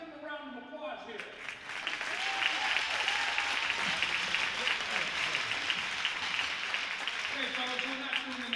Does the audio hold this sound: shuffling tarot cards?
no